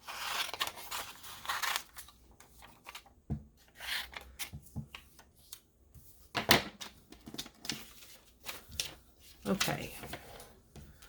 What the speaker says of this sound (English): I'm cutting it out pretty big, but it's going to need to be trimmed down.